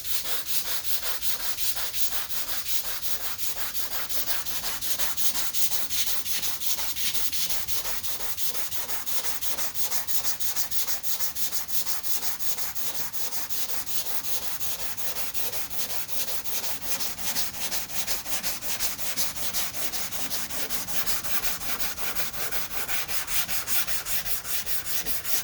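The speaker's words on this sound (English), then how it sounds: "Always sand it, feel it, sand" Steady hand sanding of 2K primer along a car body line with a round block, a continuous loud rasping rub with rapid back-and-forth strokes throughout, no voices.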